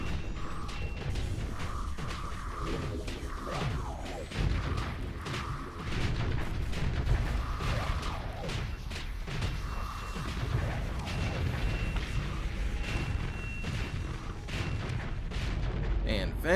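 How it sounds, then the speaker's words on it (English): Singularity cannons fire in a space battle in the video game Starsector, a steady run of repeated booming shots and mechanical impacts lasting about sixteen seconds, with voice talk underneath. "Alright, start shooting some singularity cannons over here."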